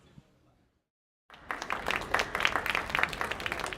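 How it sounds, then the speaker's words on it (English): An interview audience breaks into clapping after a brief silence, the applause loud and sustained with dense overlapping claps. "you don't have to clap"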